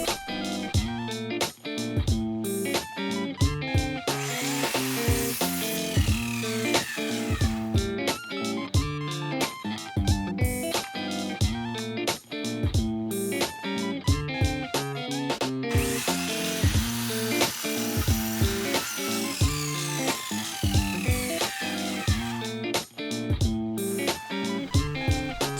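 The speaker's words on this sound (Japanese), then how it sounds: "ひっくり返して切るのを繰り返しやっていきます。" A power saw cutting scrap wood pieces again and again, each loud whining cut followed by a brief drop as the piece is flipped, in a steady repeating rhythm with no talking.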